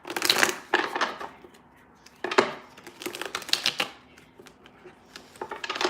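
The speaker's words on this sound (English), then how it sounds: "Let me just shuffle these." Tarot cards being shuffled by hand, bursts of crisp riffling and flapping in irregular clusters with quiet pauses between, close and fairly soft.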